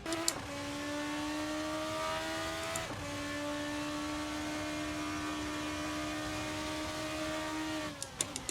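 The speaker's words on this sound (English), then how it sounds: "we can give the sound of the car a little go" A high-revving race car engine in a video game whines steadily, dropping abruptly at each gear shift before climbing again, close and continuous with no voices.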